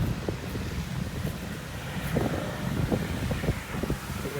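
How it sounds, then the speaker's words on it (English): Strong wind roars and buffets the microphone continuously, a dense low rumble with gusty surges and no voices. "The wind should stop now."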